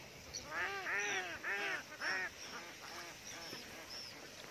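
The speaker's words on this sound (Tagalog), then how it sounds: "Nag-aaway ang ibang itik" Ducks in a flooded rice paddy quack and squabble in a noisy flock, with three loud bursts of harsh, overlapping calls followed by quieter scattered quacking.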